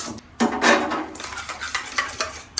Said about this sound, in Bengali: পালং শাকটা ভালো করে একটু নাড়াচাড়া করে নিচ্ছি দইটা ফেটাতে ফেটাতেই